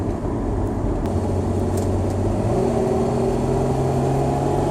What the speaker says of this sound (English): So this was a downshift with kickdown